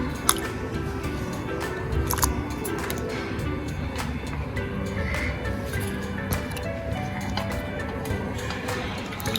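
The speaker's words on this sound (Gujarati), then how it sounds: "તો હવે તેને આપણે સારી રીતના પાણીમાં વોશ કરી લઈશું" Raw potato slices being rinsed by hand in a bowl of water, with steady wet squishing and sloshing plus scattered clicks close by, continuous throughout with no talking.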